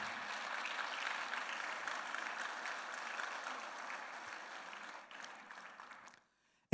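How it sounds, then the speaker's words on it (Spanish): Audience at a Spanish-language church service gives sustained applause after a scripture reading, an even wash of clapping that fades out and stops abruptly near the end. "un aplauso a la palabra del Señor"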